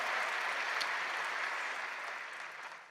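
A congregation at a Sunday church service, after the choir and orchestra, gives a soft, distant wash of applause that fades slightly toward the end.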